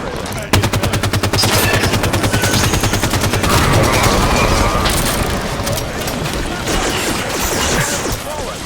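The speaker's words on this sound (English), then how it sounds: "Taking fire from a soldier!" Rapid automatic gunfire from the video game Halo 5 rattles in sustained bursts with sharp impacts and crashes throughout, mixed with players talking over the action.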